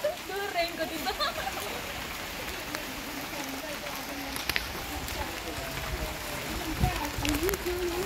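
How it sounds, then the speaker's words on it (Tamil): Heavy rain pours in the Batumi Botanical Garden in Georgia, a constant hiss of water falling on leaves and paths that holds steady throughout, with faint voices and footsteps in the background. "இது செம மழை பெய்யுது"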